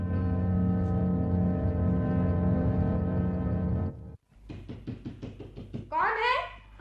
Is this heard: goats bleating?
no